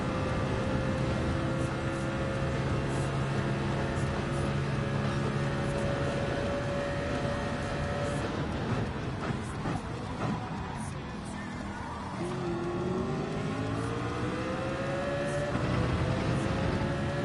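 A race car in Gran Turismo 7 drones steadily down a straight, its engine note holding and then climbing again in pitch after easing off, continuous and moderately loud.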